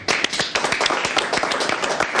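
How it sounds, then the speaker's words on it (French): A television studio audience on a live fashion show applauds, a dense, steady burst of clapping that fills the whole stretch at close range with no talking over it. "On l'applaudit."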